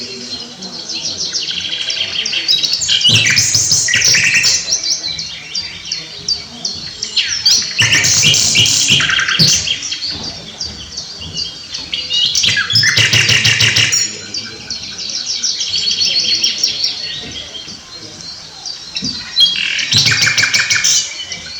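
A recording of the silba ronca bird's song, a whistle followed by a rough churring crrr, plays in repeated loud bursts of bright high chirping with pauses between phrases, somewhat harsh and distorted.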